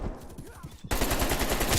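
Rapid AK rifle fire in Call of Duty Cold War, a sudden loud automatic burst cutting in midway and hammering steadily to the end after a brief lead-in of quieter rhythmic sounds.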